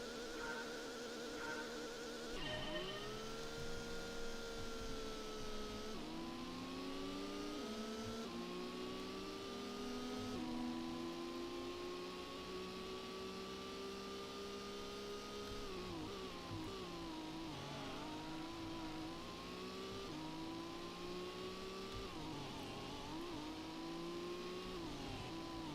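Race cars in Gran Turismo accelerate and shift gears repeatedly, a continuous engine whine rising in pitch through each gear and dropping between shifts, loud and steady for the whole stretch with no talking.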